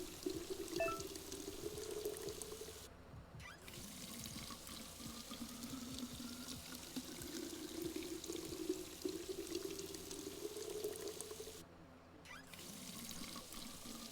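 Water runs into bottles being filled in Drug Dealer Simulator, a quiet, continuous pouring stream with two short breaks, heard alone at low volume.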